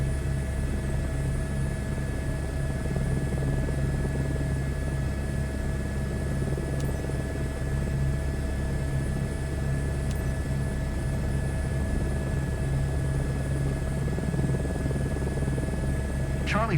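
An Airbus helicopter in Microsoft Flight Simulator 2024 drones with a steady, continuous rotor and engine hum, holding a constant level throughout with a faint tonal whine above it.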